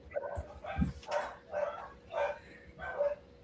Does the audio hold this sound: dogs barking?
yes